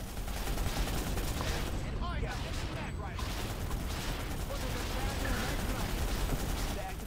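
A PlanetSide 2 battle with tanks and explosions rages in a dense, unbroken wall of gunfire and blasts, loud throughout, with a player talking over the combat.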